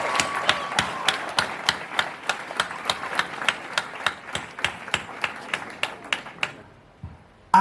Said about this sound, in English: let's give something another round of applause.